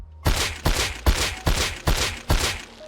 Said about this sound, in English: there's like a metallic ping to it at the bottom. You can hear it when you tap fire